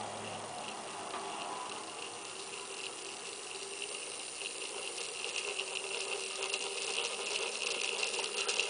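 A cheap small eBay electric motor runs at low voltage, giving a faint steady whir with fine ticking and rattling throughout.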